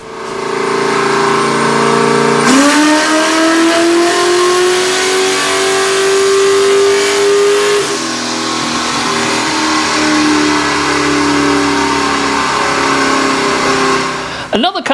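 An LS V8 built with a backwards setup revs hard on a dyno pull, its loud, steady engine note climbing in pitch, holding near the top, then easing down before cutting off at the end.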